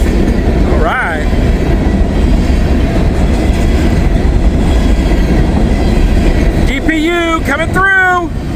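CSX or Norfolk Southern freight train with a DPU locomotive rolling past at night, loud and close with a continuous rumble and clatter of cars, horn-like tonal blasts near the end, and someone talking over it.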